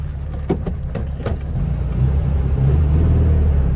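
A VW Beetle after a tie rod replacement pulls away on a short test drive, with a low engine rumble building into a steady, loud drone from inside the cabin, a few clicks and knocks early on.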